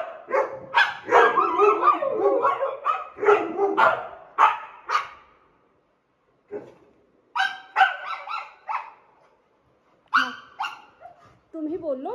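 A husky and a German shepherd bark, yip and whimper from behind a closed door, loud bursts in clusters separated by short silences, with higher whining toward the end.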